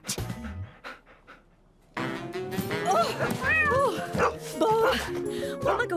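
A cartoon dog in a Bob the Builder episode pants and lets out short yips and barks, fairly close, with several voices talking over and between the dog sounds.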